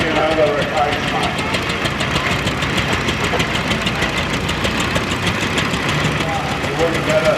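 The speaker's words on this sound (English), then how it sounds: "You wouldn't get a modern tractor to run any better than that." Pre-1930s vintage tractor engine running steadily in a show ring at the Eastern Counties Vintage and Heritage Show, a continuous rhythmic knocking chug at moderate distance, with a voice talking over it.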